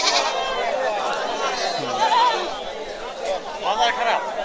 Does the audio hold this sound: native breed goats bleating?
yes